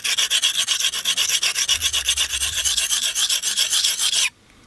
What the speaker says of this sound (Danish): Når vi sliber, så skal kniven ligge nogenlunde i en 10 graders vinkel, sådan cirka.